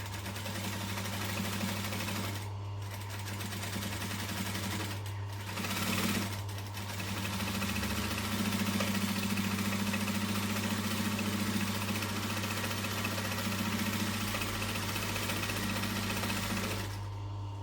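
A sewing machine runs continuously while stitching fabric, producing a close, steady mechanical hum and rapid needle chatter, with a few short pauses and a speed change along the way.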